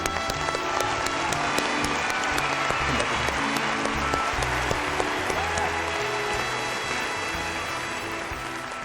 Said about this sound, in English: let's give our 6 charities and special guest presenters a round of applause